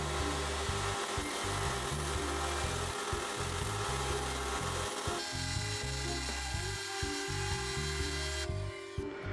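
Wood is cut along a traced line with a power saw in a workshop, a loud close grinding buzz with rapid ratcheting pulses, briefly pausing and resuming before trailing off at the end.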